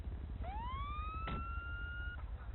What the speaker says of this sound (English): Turn off our siren there